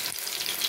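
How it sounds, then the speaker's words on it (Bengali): Coriander leaf pakoras frying in hot oil give a brief, steady bright sizzle close by, with no talk. "এইভাবে কোট করবেন আর তেলে ছাড়বেন"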